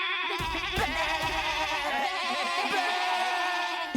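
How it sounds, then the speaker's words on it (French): Several goats bleat in quick, overlapping wavering calls, fairly close, with faint background noise. "Vous êtes chelous les chèvres."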